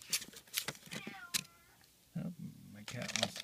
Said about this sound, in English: Cat wants to be part of the video.